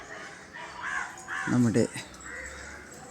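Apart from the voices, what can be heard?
crows cawing in the early morning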